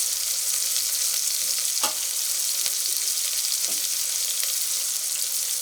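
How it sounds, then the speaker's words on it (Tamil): Chopped tomatoes hit hot oil in a pan for vegetable biryani, giving a steady, close sizzle of frying with a few soft stirring scrapes, no voices. "அரிஞ்சு வச்சுருக்க தக்காளி நம்ம சேர்த்துக்குவோம்"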